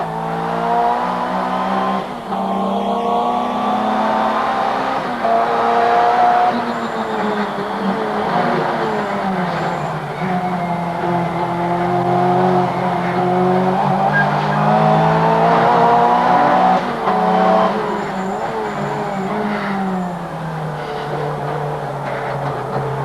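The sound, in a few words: Group A racing car cornering with tire squeal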